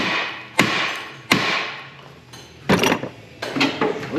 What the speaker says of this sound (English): now get yourselves a big hammer and give it a damn good crack on the bottom of the steering knuckle